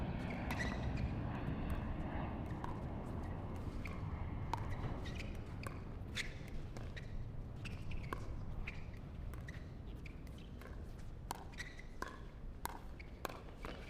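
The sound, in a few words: airplanes flying over from LaGuardia airport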